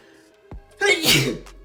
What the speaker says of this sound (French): faut que j'éternue.